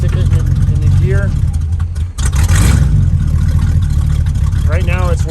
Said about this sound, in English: it's in gear and it's idling on its own